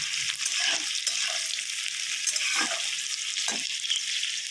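Eggplant, potato, peas and other vegetables frying in a pan, a steady bright sizzle throughout with soft stirring knocks now and then.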